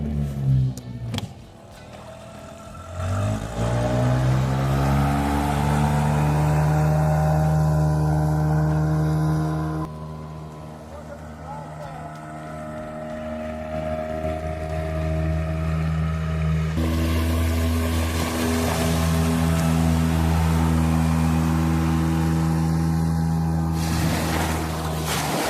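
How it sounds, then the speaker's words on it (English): A small homemade boat built from ordinary water tanks runs on the water under engine power, its motor droning steadily and close with shifting pitch as it changes speed, over a soft wash of water and wind. "Attach it to the boat and proceed with the actual water test. With the engine, the boat has reached the next level."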